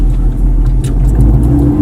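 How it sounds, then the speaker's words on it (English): A manual-transmission car accelerating from a standstill as the driver gives it gas after the clutch bite point, its engine revving in a steady, loud, close rumble heard from inside the car. "And then as you get the car going, now you can give it gas now."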